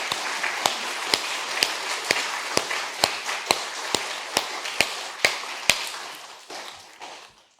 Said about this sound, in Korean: 하나님, 우리 좀 박수 좀 한번.